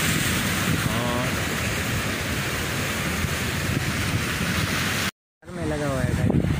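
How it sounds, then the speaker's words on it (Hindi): Rough, high sea water pounding a beach, a loud constant roar of surf mixed with heavy wind buffeting the microphone, cut by a brief dropout near the end. "पानी बहुत रफ हुआ हुआ है"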